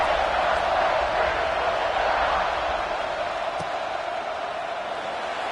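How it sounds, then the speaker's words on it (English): Dense crowd noise fills a college football stadium at an Ohio State versus Clemson game, a steady loud murmur just after a score, holding evenly throughout with no clear cheer peaks. "this crowd is buzzing after that last score"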